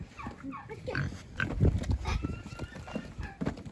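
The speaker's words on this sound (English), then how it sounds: "We're trying to move the pigs to a new pen," Pigs grunting and snorting in a farm pen as people try to move them to a new pen, a close cluster of irregular short grunts with no talk.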